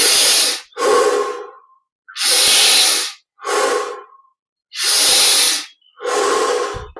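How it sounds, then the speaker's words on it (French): Deep, loud breaths close to the microphone during guided Yogoda energization meditation, about three slow cycles of long hissing inhales and exhales with short silent gaps between. "On prend quelques respirations profondes."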